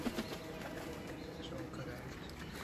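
Pigeons on a rooftop let out soft, low coos that sit faintly beneath nearby people talking.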